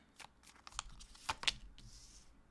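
Tarot cards shuffled by hand, several quick riffling bursts with soft crisp slaps and a final flurry, close and quiet, alone.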